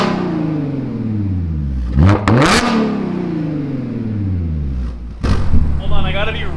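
A Dodge Hellcat V8 with an aftermarket exhaust idles with a deep, loud rumble, then barks through two sharp, rising revs that quickly fall back, with someone talking briefly at the end.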